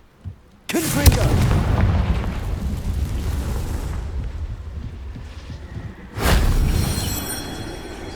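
Confringo explosion spell in the game Hogwarts Legacy, two loud booming blasts with rumbling, crackling tails, the first sustained for several seconds before fading, the second erupting near the end.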